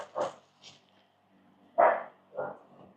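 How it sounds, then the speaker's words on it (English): Dogs bark in about four separate, sharp yaps spread unevenly over a few seconds. The barks are moderately faint, set against a quiet background, with no talking. "Dogs are losing their minds over something."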